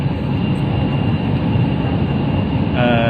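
A Kunming Metro Line 3 train rumbles steadily from inside the carriage, a constant loud roar with a faint whine joining near the end.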